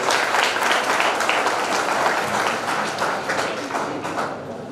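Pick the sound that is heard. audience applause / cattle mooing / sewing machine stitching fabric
audience applause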